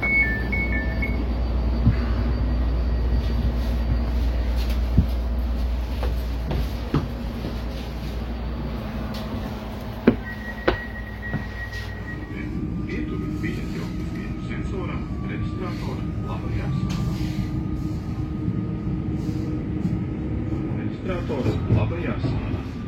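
Train ride between stations in Ogre, Latvia: a steady rumble of a moving carriage with occasional clicks and a shift in tone midway, as the ride continues under a conversational voice.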